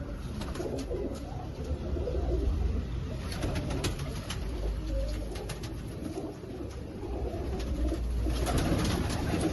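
A 23-year-old pet pigeon, now too old to fly, coos softly in low repeated murmurs against a steady background hum, with no talk.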